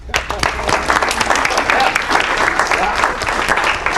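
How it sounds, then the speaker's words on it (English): Continuous audience applause in a room during a real estate talk, dense and even clapping from many people for the whole stretch. "Round of applause, please."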